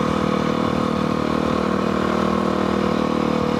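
A motorcycle engine running steadily on a ride through Farmington Canyon, a constant loud mid-pitched drone with clattering texture and no distinct rev changes, heard close with no talk.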